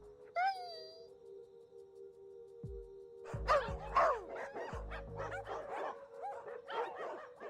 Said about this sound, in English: The sky is filled with the relentless sound of barking and yipping from the two dogs